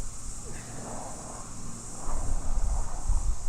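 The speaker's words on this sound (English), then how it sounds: "Wind is starting to pick up." Wind buffets a microphone outdoors at a cricket ground, a steady low rumble that grows louder and gustier partway through.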